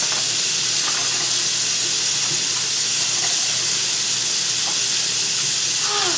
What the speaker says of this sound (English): for the shrimp, I just rinse it off with cold water, and I do the same thing for the steak too.